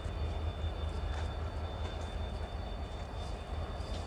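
Passenger train 09513 pulling into Jetalsar station in the Bhavnagar division, a steady loud low rumble of rolling railcars with faint high metallic whine, continuous throughout with no voices.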